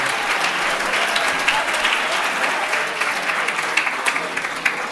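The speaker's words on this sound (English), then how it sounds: "One more big round of applause. All of our winners, all of our participants." Sustained applause from an audience at an end-of-year gathering honoring winners and participants, steady dense clapping for the full five seconds with a few louder individual claps standing out.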